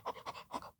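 A French Bulldog breathes heavily: a few rhythmic, raspy, snorting pants in quick succession, faint and close, then fading out.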